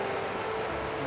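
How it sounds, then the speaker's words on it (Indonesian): Heavy rain pours steadily and loudly, a dense, continuous hiss of drops striking surfaces close by with no pauses. "Kita nggak bisa pulang kalau kita hujan kayak gini."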